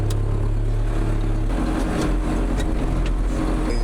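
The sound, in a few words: tractor engine driving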